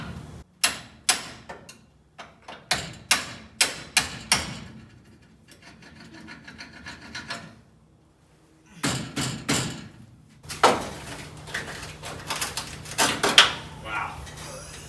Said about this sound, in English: I'm gonna try to chisel on this one.